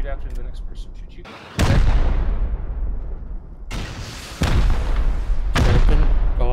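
Rocket launchers fire in a Rust video game raid, several loud booming blasts and explosions that each cut in abruptly and roll off into rumbling decay, with players talking between them.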